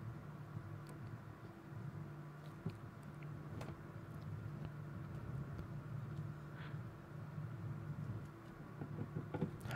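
Formula 1 cars race around the Red Bull Ring at the Austrian Grand Prix, heard as a steady, distant engine drone and rumble with no clear individual pass-bys standing out.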